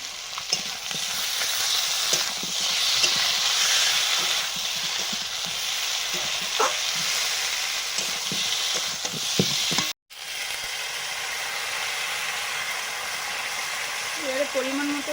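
Vegetables and spices, with chilli powder and ground cumin-coriander paste, sizzle and fry in a pan, a steady broad hiss with scattered stirring clicks before a brief cut and more frying.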